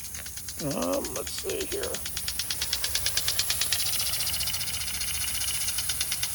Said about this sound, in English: So this actually does a nice job of watering, especially now that I drilled out that hole of the nozzle.